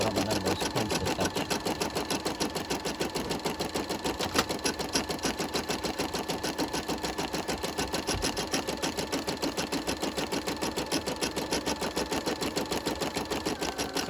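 An embroidery machine stitches on a paper doily with a rapid, evenly repeating mechanical clatter that runs without a break throughout, loud and close, with no talk.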